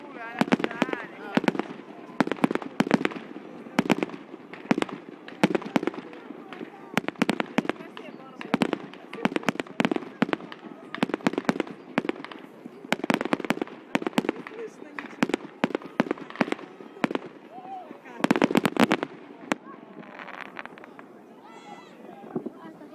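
Irregular volleys of sharp pops and crackling bangs from New Year fireworks in Vaasa, Finland, 2011, come in dense clusters at varying distances, with a heavy burst near the end and people chatting in between.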